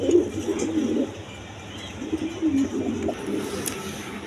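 Domestic pigeons cooing in a pigeon seller's loft, a run of soft, low rolling coos repeating close by over a faint background hum, with no talk.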